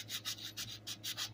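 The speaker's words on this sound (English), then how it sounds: "And then take my cool sanding stick." Sanding stick rubbed back and forth along a trimmed plastic edge to bevel it, a close, steady raspy scrubbing in about eight even strokes with no talk.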